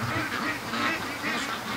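Ducks at a free-range farm barn quack loudly and close by in a dense, overlapping chorus of repeated honking calls through the whole short stretch.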